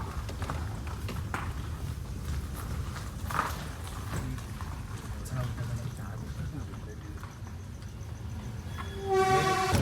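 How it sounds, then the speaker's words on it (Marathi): Rumbling train noise at Gokarna Road railway station, India, with footsteps and voices talking, ending in a short tonal horn-like sound. "Railway station."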